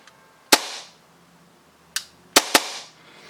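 A prop gun fitted with a blowback unit fires .22LR blanks, four sharp cracks: one, a pause, then a quick cluster of three, each ringing briefly against near silence.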